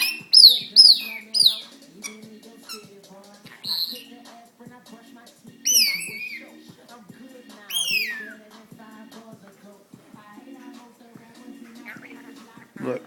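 A pet bird gives bursts of high, sharp chirps, close and loud, spaced irregularly over about thirteen seconds, with a person talking in between.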